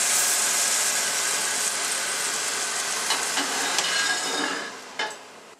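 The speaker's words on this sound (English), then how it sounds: "we're going to put our nice breaded chicken onto our mixture of butter and oil" Breaded chicken searing in a pan of butter and oil gives off a loud, steady, close sizzle and hiss, with a few crackles and pops near the end as it fades slightly.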